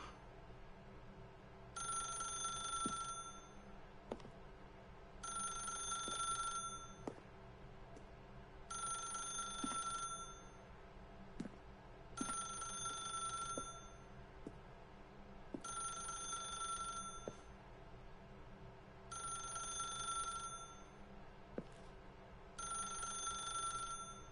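Telephone bell ringing in the video game The Stanley Parable, seven evenly spaced bursts of a bright electronic ring separated by short pauses, heard alone over a low steady ambient hum.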